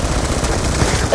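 Rapid turret gunfire aimed at enemy ASD drones in Call of Duty Black Ops 2, a dense, continuous burst of shots over a loud battle backdrop.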